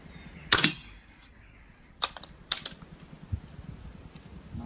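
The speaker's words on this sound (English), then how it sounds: "No idea where that fourth shot just went." A BSA Scorpion .22 air pistol fires three sharp, snappy shots close by, one followed by two in quick succession, each a brief crack over a quiet background.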